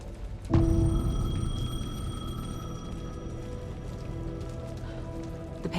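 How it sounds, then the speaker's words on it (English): A payphone rings amid steady rainfall in the video game Alan Wake 2, the rain a constant hiss with a sharp onset near the start and sustained ringing tones running through the whole passage. "The payphone was ringing."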